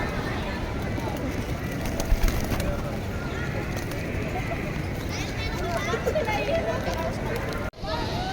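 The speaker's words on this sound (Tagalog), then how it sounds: "Kalapati!" Pigeons coo and flap amid a busy outdoor scene, with a few wingbeat bursts against steady background noise and people talking nearby.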